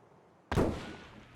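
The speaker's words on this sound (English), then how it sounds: "Out of nowhere there's a motion shot, extremely close." A single nearby gunshot in Escape From Tarkov rings out sharply after a brief quiet, its loud crack fading into a short echoing tail.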